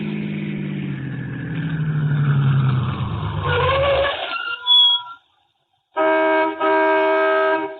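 A car rolls into a gas station at night in a radio drama, its engine droning and winding down over several seconds. After a brief silence, a bright ringing chime sounds.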